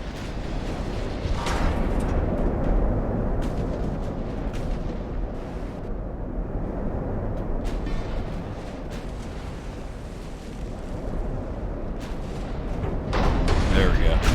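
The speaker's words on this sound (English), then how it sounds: "Hopefully these 18-inch shells come in and do the job." Heavy naval gunfire from 18-inch battleship shells in Ultimate Admiral: Dreadnoughts, a dense continuous rumble of booms and blasts with bursts near the start and a louder swell at the end, under a voice talking throughout.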